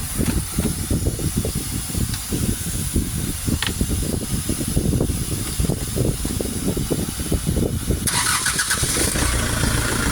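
A Hyundai H100 Porter's D4CB Euro 4 diesel engine, with a P1185 low fuel pressure fault, cranks and catches, then runs with a steady rough rumble and hiss, loud and close throughout.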